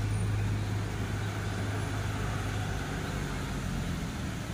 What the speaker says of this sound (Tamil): வண்டி ஸ்டார்ட் பண்ணியிருக்கோம்.